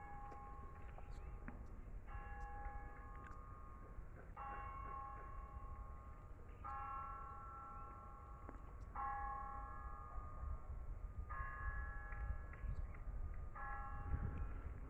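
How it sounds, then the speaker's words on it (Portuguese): Church bells toll in slow repeated strikes, ringing out at a distance over a low background rumble. "Está ouvindo as badaladas?"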